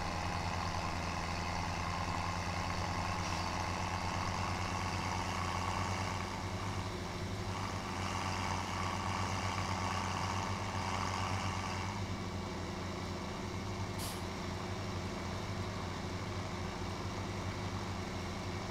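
A tractor engine in Farming Simulator 17, hauling a trailer while planting sugarcane, drones steadily at a low, constant idle-like hum that holds evenly with no breaks throughout.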